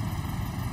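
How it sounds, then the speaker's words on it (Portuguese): Coast guard helicopter flying over a fishing boat, a steady droning rotor and engine hum, brief and moderately loud, with no talking. "Josh e Casey cumprimentam um helicóptero da guarda costeira."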